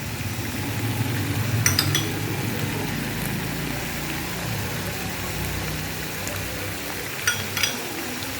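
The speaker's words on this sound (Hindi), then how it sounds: "अब मैं इसके ऊपर ये तेल डालूँगी।" Oil drizzled over chicken steam-roasting in a pan, a continuous soft sizzle and crackle with a few light metallic clinks of utensils against the pan.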